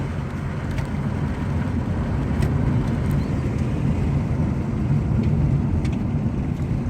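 A Hyundai Verna with an automatic transmission fault (reverse gear shift-shock and third gear hold) drives along, heard from inside as a steady, loud low engine and road drone that barely changes throughout.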